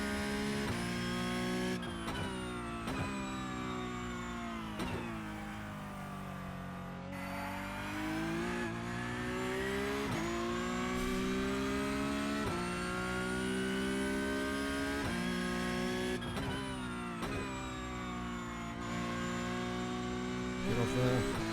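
A Porsche Cup race car engine in iRacing at the Nordschleife, revving loud and close through repeated rising pulls, each broken by a quick gearshift dip, then climbing again.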